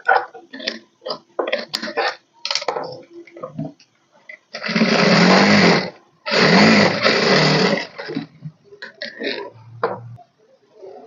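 A sewing machine stitches a blouse side seam in two sustained, loud, droning runs of a few seconds each, close up, with scattered handling noises of fabric and the machine around them and no talk.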